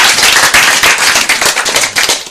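A Korean school audience claps for a guest speaker, loud and close, with many hands beating in a quick, slightly uneven rhythm and sharp individual claps standing out.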